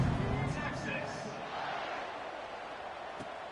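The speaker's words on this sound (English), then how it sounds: "this crowd is buzzing after that last score" Stadium crowd in an NCAA football video game after a score: a steady, broad crowd roar and murmur running throughout under a commentator's voice.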